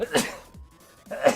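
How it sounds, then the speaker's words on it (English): A single person sneezes abruptly during a live game stream, the burst followed by a short pause and then a brief spoken apology, close to the microphone. "I'm very self-conscious about like sneezing where you guys can hear it"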